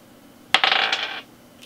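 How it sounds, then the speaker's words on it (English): Dice rolled onto a hard surface, a sudden clattering rattle that bounces and skitters for about half a second before settling, close and fairly loud with no voices. "So I'm gonna roll the dice."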